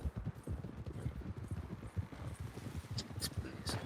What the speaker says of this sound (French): Il va trop vite son cheval.